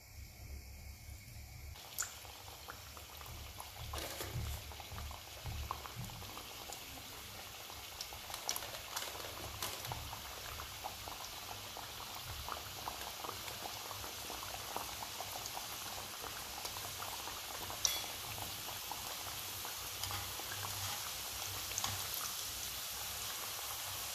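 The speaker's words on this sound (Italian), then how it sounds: "I ravioli sono pronti, possiamo iniziare a friggerli." Ravioli frying in hot oil give a continuous dense sizzle and crackle with fine bubbling pops, steady and moderately close, with no voices.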